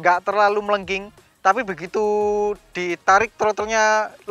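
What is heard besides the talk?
None of the usual background noises is heard.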